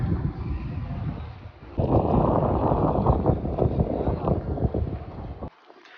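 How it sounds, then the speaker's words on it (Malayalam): Strong wind gusting along a street near the Makkah clock tower, a loud roaring rumble of wind buffeting the microphone that swells, holds for several seconds and then drops away abruptly. "നല്ല കാറ്റ്"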